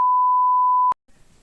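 A single steady censor bleep tone, loud and pure, holds for just under a second and cuts off sharply, followed by faint low background rustle.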